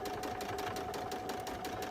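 A sewing machine runs steadily while stitching a quilt, its rapid needle chatter close and even throughout with no pauses.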